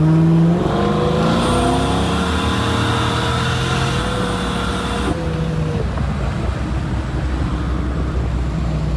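A supercharged Ford Foxbody Mustang with an automatic transmission pulls at wide open throttle. The engine note climbs in steady harmonics, then drops sharply near the midpoint into a rough, loud drone.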